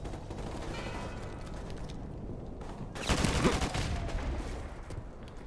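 Gunfire in Call of Duty 4: Modern Warfare Remastered on PC, a rumbling battlefield bed with a loud burst of rapid shots and booming fire surging mid-clip before easing off.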